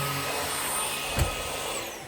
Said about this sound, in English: the Hoover HFX cordless upright vacuum cleaner